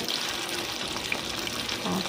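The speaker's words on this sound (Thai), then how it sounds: "ใส่น้ำมันลงไปนะคะ พอร้อนเราก็จัดการทอดได้เลยค่ะ" Minced pork patties, fish-cake style, frying in hot oil in a pan, giving a steady, dense sizzle and crackle that runs close and fairly loud without a break.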